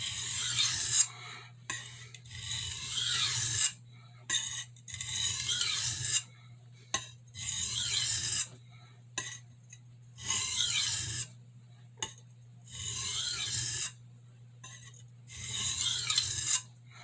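Santoku knife edge drawn repeatedly across a whetstone to raise a burr: close, rhythmic rasping strokes in bursts of about a second, separated by short pauses, over a faint steady low hum.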